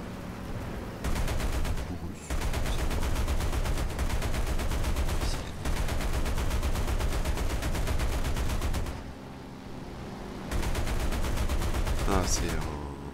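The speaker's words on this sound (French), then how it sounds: "Là je prends des tirs de 12-7 américaines." Bursts of American 12.7 mm heavy machine gun fire in War Thunder realistic battles, aimed at an M8 Greyhound armored car, come as loud sustained rapid rattles in several long volleys separated by brief lulls, with background game noise.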